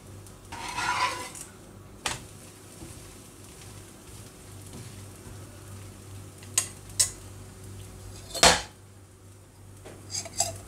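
A garlic paratha cooks on a hot tawa: a soft oil sizzle runs underneath while a spatula scrapes and clinks against the griddle in a few sharp, scattered knocks, the loudest as the bread is flipped.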